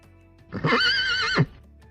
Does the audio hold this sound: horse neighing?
yes